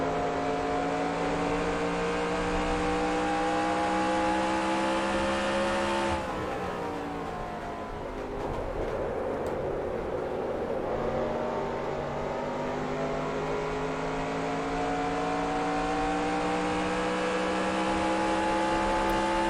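Simulated race car engines in NASCAR Racing 2003 at Phoenix drone loudly at high revs for the whole stretch, with a brief dip in pitch mid-way as gears shift and cars close in, then a steady climbing whine.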